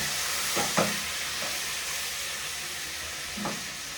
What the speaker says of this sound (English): So this is frying.